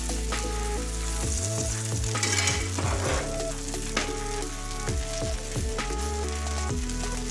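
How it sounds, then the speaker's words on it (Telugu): Rava dosa roasting in oil on a pan over a medium-high flame gives a steady, loud sizzle and crackle throughout, with the pan being shifted now and then. "అప్పుడు రవ్వ దోశ అన్ని సైడ్స్కి మంచిగా రోస్ట్ అవుతుంది."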